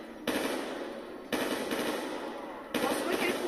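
Automatic gunfire in the Black Ops II zombies mode, three bursts of rapid shots in quick succession, loud and close.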